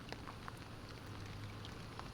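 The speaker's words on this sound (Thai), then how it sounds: "ฝนก็ยังตกกระนำอยู่บ่ลดละเลยครับ" Steady rain patters softly on a surface, a faint continuous hiss with scattered drips and a low hum underneath.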